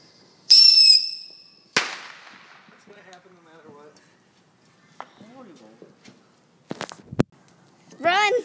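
Fireworks at a backyard show pop and crackle, starting with a loud whistling launch followed by a sharp burst, then scattered bangs and crackles amid distant voices, with a final loud crackling volley near the end.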